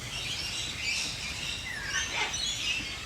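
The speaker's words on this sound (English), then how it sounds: "You can hear the rainbow lorikeets going off out there as well." Rainbow lorikeets call outdoors in a continuous, distant wash of shrill chatter and screeches over steady background noise, with no one speaking.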